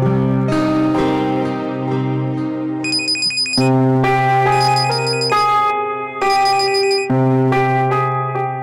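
A telephone ringtone plays a bright, loud electronic melody for an incoming call, its tuneful phrases repeating several times with short gaps and no voices.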